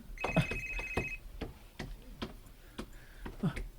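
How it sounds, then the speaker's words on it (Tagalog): A cellphone ringing in a house with a tonal ringtone sounding in short repeated bursts amid faint clicks and household noise, moderately quiet and without speech. "Oh, asa maron ang nagbagti nga cellphone?"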